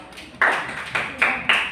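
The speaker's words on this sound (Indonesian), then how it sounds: "Tepuk tangan buat" A classroom of pupils clapping hands together in four sharp, loud unison claps with short gaps between them, close and fairly bright, with no talk over them.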